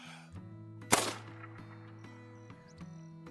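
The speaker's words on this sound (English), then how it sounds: "One shot, 300 yards on the trot, and we got ourselves a nice gobbler down" A single rifle shot cracks out loud and sharp at a turkey gobbler about 300 yards off in the hunting game Call of the Wild, its report trailing off over steady ambient tones.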